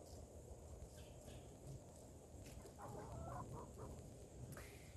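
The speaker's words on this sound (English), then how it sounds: "You are the absolutely nosiest bird on the planet." A nosy chicken clucks in a garden during freeze preparation, several soft, short clucks scattered over faint outdoor background noise, fairly quiet and without talk.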